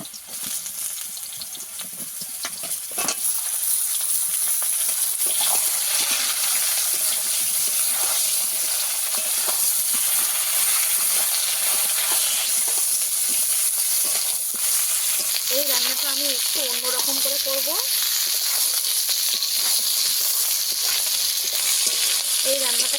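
Brinjal and potato fry together in a pan with a constant, even sizzle and stirring sounds, lasting throughout, with a faint tonal hum briefly rising near the end.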